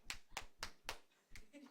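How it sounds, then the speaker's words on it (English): A class clapping hands together five times in an even rhythm, sharp and near but fairly quiet, with a faint voice after the last clap. "Let's clap 5 times."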